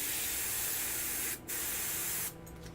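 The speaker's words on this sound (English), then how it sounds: "So I'm going to spray my white paint." An airbrush sprays white paint at high pressure, a loud continuous hiss with one brief break midway and a softer, rougher stretch near the end, heard alone without talk.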